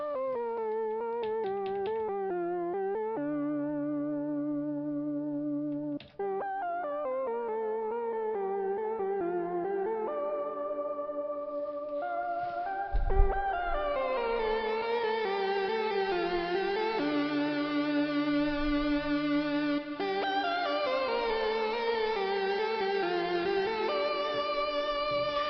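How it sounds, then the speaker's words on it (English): A sustained synthesizer line with reverb and delay plays chords and gliding notes, the echoes trailing and overlapping into a wide, washy tail, loud and alone without any talking. "now we're going to put on some reverb and delay so you can hear it as it is more or less in"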